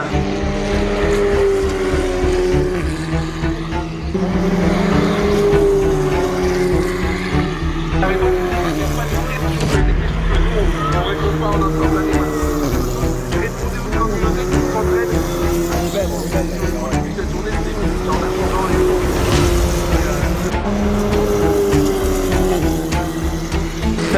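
Race cars circle a circuit during free practice, a dense continuous engine roar with overlapping passes and pitch changes, loud and sustained, with a voice faintly mixed in.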